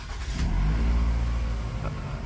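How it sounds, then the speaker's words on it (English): A Toyota RAV4 engine cranks and catches, then settles into a loud, steady idle with a low rumble close by, no talk over it. "I'm gonna start the car"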